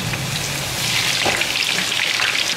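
Crispy shredded potato frying in a wok sends out a steady, loud sizzle with dense crackling that holds alone throughout, with no talk over it.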